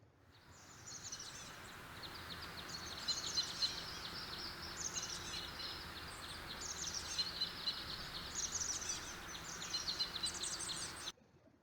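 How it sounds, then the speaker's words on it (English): A small sparrow chirps in a quick series of high, bright tweets, repeated in short bursts over a soft, steady background hiss. "A sparrow chirps."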